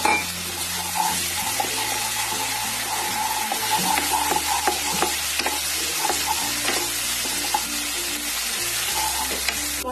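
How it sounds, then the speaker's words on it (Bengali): Spice paste for a Bengali charapona fish jhal with brinjal and potato fries in a pan with a splash of water, sizzling steadily while a spatula scrapes and stirs repeatedly, close and fairly loud. "মশলাটা ভাজা হয়ে গেছে"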